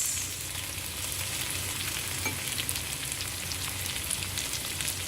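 Prawns fry in oil with sambal and softened onions, a steady close sizzle and crackle that runs the whole time, with occasional stirring scrapes.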